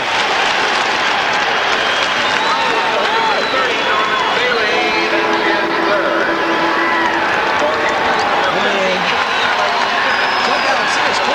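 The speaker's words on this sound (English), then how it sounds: "Listen to this crowd roar." A basketball arena crowd at a Syracuse men's game roars in a loud, continuous wall of cheering and applause, with broadband noise sustained throughout and no break in the din.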